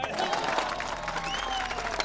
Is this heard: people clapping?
yes